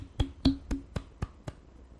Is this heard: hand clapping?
yes